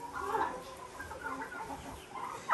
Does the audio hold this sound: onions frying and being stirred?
no